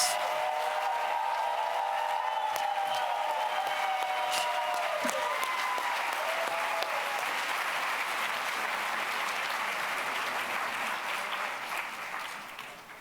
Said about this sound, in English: let's give another warm round of applause to Gloria Ladson-Billings.